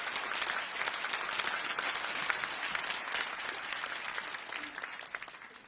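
A Korean church congregation at Bundang Woori Church gives warm sustained applause welcoming a guest pastor, a dense steady patter of many hands that thins and fades near the end.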